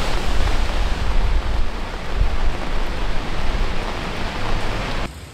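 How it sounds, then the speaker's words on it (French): Heavy rain pours down on a New York street near the Brooklyn Bridge, a loud, continuous hiss of drops hitting the pavement with a low rumble beneath, fading slightly at the end. "il commence à pleuvoir"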